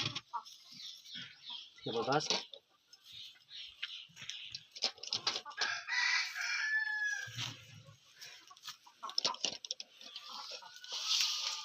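Gavran country chickens cluck in a poultry shed, with a rooster crowing in bursts amid scattered bird calls, while someone talks over them.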